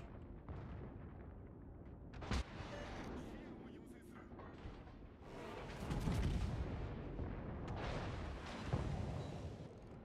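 Heavy battleship main-battery salvos in World of Warships, aimed at the Missouri, with deep booming blasts and rumbling low end, a sharp report near two seconds and stronger volleys later, mixed with game noise and occasional voice.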